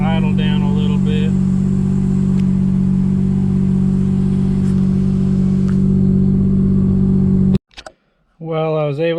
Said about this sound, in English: Well, I was able to get the car to somewhat idle. Definitely isn't wanting to idle smooth.